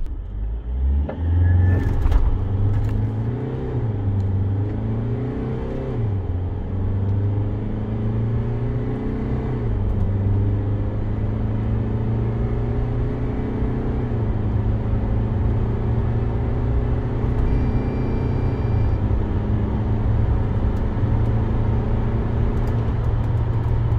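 A 2023 VW Grand California camper van, weighing 3.5 tonnes with a full water tank, accelerates hard from a standstill. The steady engine drone climbs and holds loud and near throughout, with gear changes briefly shifting its pitch.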